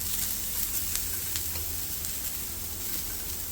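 Finely chopped onion sizzles in hot oil on a dosa pan while a crispy rava dosa cooks, making a steady, close frying hiss with faint crackles throughout.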